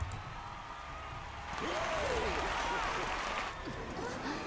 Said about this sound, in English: Some of the crowd is pretty wild, the rest not so much.